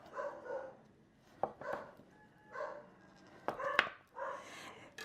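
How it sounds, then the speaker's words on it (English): Dogs bark repeatedly a short way off, several sharp woofs in uneven bursts with quiet gaps between them. "I'm sorry about the dogs barking"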